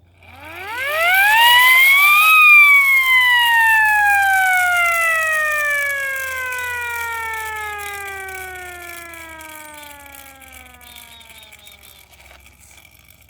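A siren made from a food can sounds alone, one long wail that climbs to a peak and then slowly falls over many seconds, with strong harmonics and a steady low hum beneath.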